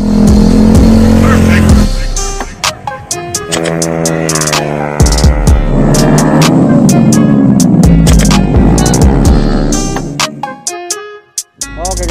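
A Honda New Beat ESP scooter with a CLD X Monster aftermarket exhaust revs loudly up close, rising and falling in repeated throttle bursts before dropping away near the end.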